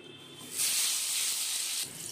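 Pointed gourd pieces dropped into hot mustard oil, a sudden loud hissing sizzle that holds steady for over a second, then eases to a softer fry.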